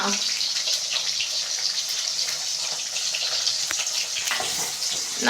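Sambar shallots sautéing in a pan of oil for Tamil fish curry, a steady broad hiss of frying that runs unbroken and fairly close throughout, with a few faint scrapes near the end.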